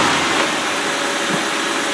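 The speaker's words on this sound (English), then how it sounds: "Now with the engine idling" A car engine idles steadily, a constant close hum and rumble with no change in pitch.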